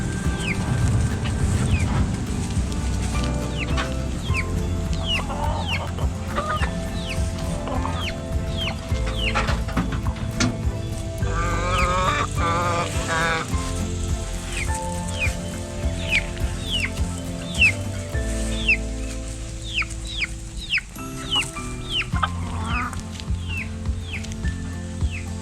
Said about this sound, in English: it looks like Jared's chicken